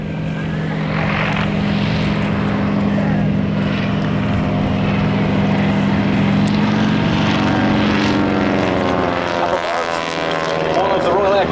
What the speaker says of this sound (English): Three pairs of aircraft diving towards the trenches.